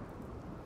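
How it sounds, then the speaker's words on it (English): Soft, steady rumble of rain with low thunder in the colony-building game RimWorld, faint and continuous with no voices over it. "it's good that it's raining"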